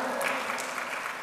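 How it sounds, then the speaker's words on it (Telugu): A church congregation clapping in praise of God, a brief dense burst of many hands applauding together, loud and continuous. "చప్పట్లు కొట్టి దేవుని స్తుతిద్దాం"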